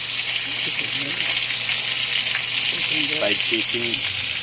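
Chicken frying in hot oil, a loud, steady sizzle close up that runs throughout, with a voice speaking over it in places.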